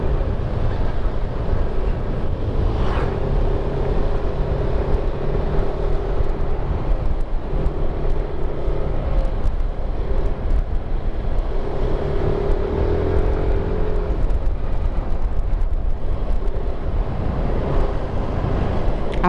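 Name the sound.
private vehicles passing on road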